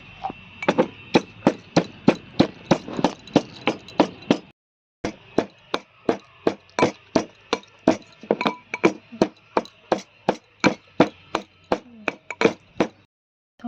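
Roasted spices, chili, cumin and dried red chili, are crushed by hand with steady, evenly spaced knocks. The close, sharp strikes run for a long stretch, broken by one short pause, with no talking.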